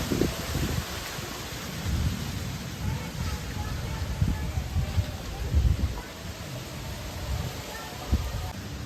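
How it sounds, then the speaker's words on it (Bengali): Stormy outdoor weather with wind blowing and rumbles of thunder as a storm starts before rain, heard as a steady noisy wash with low rolling booms throughout, fairly distant and moderate in level. "ঝড় ছেড়ে দিয়েছে বলতে বলতে"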